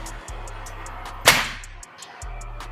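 A single sharp crack from a Falcon Classic PCP air rifle charged to 4000 psi, heard close and loud against a quiet background with a low steady hum.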